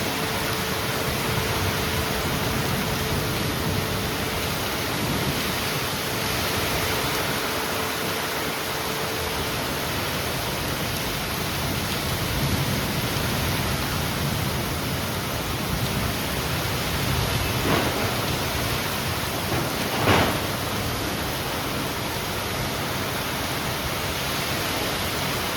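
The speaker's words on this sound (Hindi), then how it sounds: "फिर रात के समय में बारिश चालू हो गई थी।" Steady rain falls through the night as a dense, even hiss that holds for nearly half a minute, with a couple of faint brief knocks partway through and no voices.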